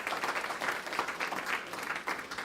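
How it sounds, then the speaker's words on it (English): Congregation applause for award recipients during a church service, a soft, steady wash of many hands clapping heard from some distance, with gentle swells and no talk over it. "So give everybody a round of applause on that."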